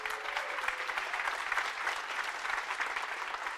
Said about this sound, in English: please stand up and give yourself a warm round of applause